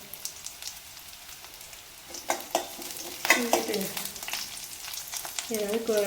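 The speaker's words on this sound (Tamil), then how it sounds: "நல்லா வெங்காயம் வதங்கட்டும்" Chopped onions sautéing in a pan for a chickpea tamarind curry, a quiet sizzle at first that grows busier with scraping stirs midway and a brief clatter near the end, no talking.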